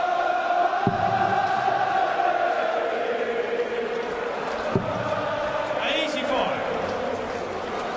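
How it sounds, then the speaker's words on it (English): A darts crowd at the World Grand Prix keeps up a steady, loud roar of cheering and chanting in an arena, with a couple of sharp thuds and a commentator's voice over it. "Crowd in good voice."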